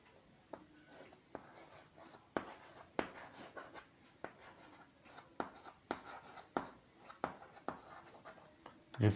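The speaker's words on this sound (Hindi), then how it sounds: "लिख लेते हैं" Chalk or marker writing on a classroom board during a Class 7 physics lesson on reflection of light: irregular taps and scratchy strokes, fairly close, with sharp clicks scattered throughout and faint talk in the background.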